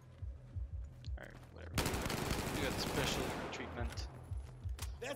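Gunfire in the Battlefield 4 campaign, a sustained burst of rapid automatic fire that lasts a couple of seconds, set among muffled voices and lighter clicks and impacts.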